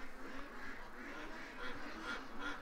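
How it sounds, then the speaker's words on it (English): A duck quacks repeatedly outdoors on a morning, bursts of moderately loud nasal calls in an irregular rhythm over light background noise. "Oh man, that duck rocks."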